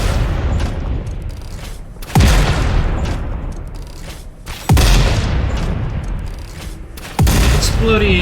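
Three heavy booms from in-game explosions, evenly spaced about two and a half seconds apart, each a sharp loud blast trailing into a rumbling decay over steady game background noise.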